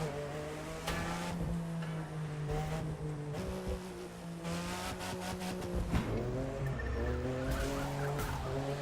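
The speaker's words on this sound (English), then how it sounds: "Take it off-road, not a problem. Obviously, since it's an SUV." An SUV in The Crew 2 video game driving off-road, engine revving and dropping repeatedly with tire skids and scrabbling surface noise, fairly loud and continuous with no talking.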